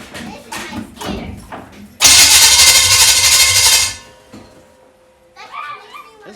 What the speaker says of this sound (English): That flywheel's ringing.